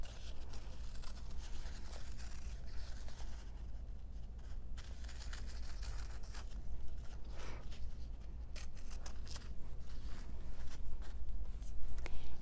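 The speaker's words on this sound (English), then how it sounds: "Oops, I need my fabric scissors." Fabric scissors snip through fabric while making Halloween eyeball barrettes, a series of quiet, crisp cuts and rustles over a steady low hum, no speech.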